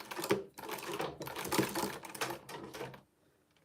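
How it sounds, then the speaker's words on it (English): A sewing machine stitches fabric in rapid mechanical bursts, with short pauses between runs and near silence at the end, close and fairly quiet. "I'll sew on it again"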